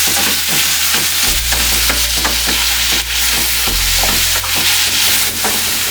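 Ground beef and tomato sizzle and fry in a pan for tacos, with steady loud crackling and repeated stirring scrapes throughout.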